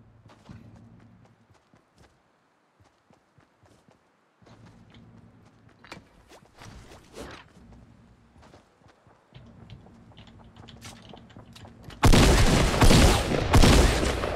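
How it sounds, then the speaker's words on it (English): Gunfire in the video game Fortnite, with scattered in-game shots and footsteps across a quiet stretch, then a sudden loud dense burst of rapid firing at the end. "I'm being shot from somewhere else behind."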